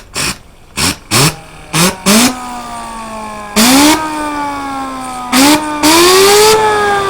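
A Traxxas XO-1 RC car's electric motor spins its wheels up in the air on a tire test, giving five quick whining bursts. Longer rising, pitch-sliding whines follow, loud and close.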